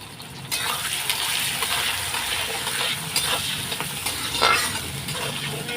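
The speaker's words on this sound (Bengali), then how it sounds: "পেঁয়াজটা আগে লাল লাল করে ভেজে নিই" Onions frying in a pan for a home-cooked meal, a dense close sizzle with intermittent spatula scrapes and light clinks, steady and fairly loud throughout, no speech.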